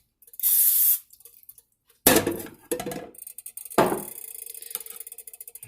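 Cooking spray hisses onto a hot pan in one short burst, then metal clatters and clinks as the pan is handled on the stove, with a steady faint background hiss.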